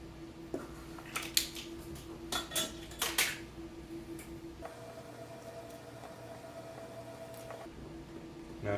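Ingredients, vanilla among them, are stirred in a bowl on a kitchen counter while preparing roast chicken: faint clinks and scrapes of a utensil against the bowl, with a few sharper taps, over quiet room noise.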